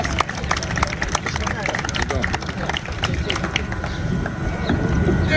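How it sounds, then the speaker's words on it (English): An audience at an Atlantic City Walk of Fame induction ceremony applauds the mayor with dense, steady clapping from a crowd. Voices are heard under it, and the applause swells toward the end. "Please give a round of applause to the mayor of the city of Atlantic City"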